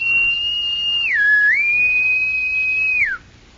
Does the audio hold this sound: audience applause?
no